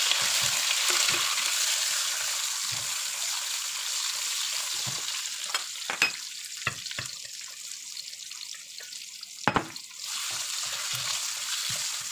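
Onions frying in cooking oil in a pan, a steady broad hiss running throughout with scattered stirring clatters and a couple of sharp utensil knocks near the middle, no voices.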